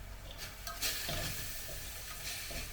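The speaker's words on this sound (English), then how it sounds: "ആ ഒന്ന് ഇളക്കി കൊടുക്ക്." Beetroot thoran fries in a pan on a home stove, giving a faint, steady sizzle with soft scraping and stirring noises throughout, no voices.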